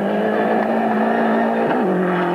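A rally car at the 1992 Argentina Rally drives while countersteering, its engine holding a loud, steady close drone with a brief pitch dip near the end.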